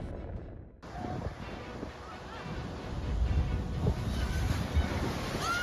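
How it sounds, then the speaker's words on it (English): Heavy ocean surf crashes against a seawall in a storm, a dense roaring wash of water and wind buffeting the microphone, with heavier thuds of impact toward the end. "Massive waves repeatedly slammed into the seawall"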